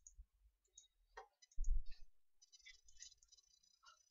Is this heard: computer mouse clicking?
yes